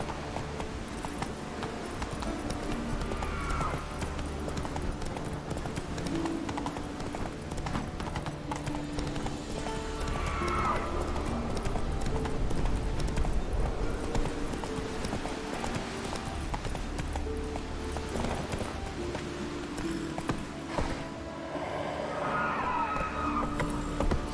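A horse gallops in The Witcher 3, its rhythmic hoofbeats pounding steadily and loudly for the whole stretch over a dense game soundscape.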